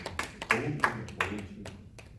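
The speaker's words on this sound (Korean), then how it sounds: "박수 한번 쳐줘요" A church congregation at a Sunday sermon gives a short burst of clapping, a handful of sharp, uneven claps spread over about two seconds that thin out toward the end.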